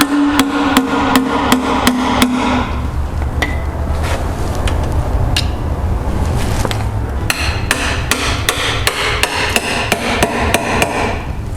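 A hammer strikes a Ford 429/460 oil pan on a 1958 Ford Fairlane to pop the gasket loose, giving loud, sharp metallic whacks in rapid regular runs with a denser clattering stretch in the middle, close by.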